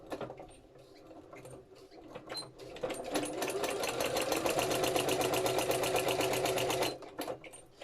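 A sewing machine running a long, big straight stitch through decorative paper ephemera, a rapid steady mechanical chatter that builds up after a few hesitant starts and holds loud for several seconds before stopping.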